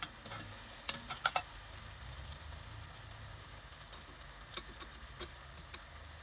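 Tomato paste frying in a pan while making lentil soup, a soft continuous sizzle with a few sharp clinks of a utensil near the start and scattered light ticks throughout.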